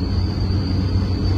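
A steady, thin high whistle from an air leak in a car cruising above 100 km/h on an airport road in Hyderabad, held continuously over a dense, even rumble of road and engine noise.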